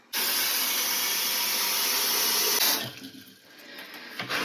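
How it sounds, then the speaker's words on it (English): Water pours steadily into flower seedling trays from below for bottom watering, a loud continuous splashing flow like a running tap that stops partway, followed by quieter trickles and drips. "So let's water."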